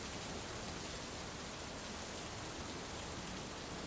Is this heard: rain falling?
yes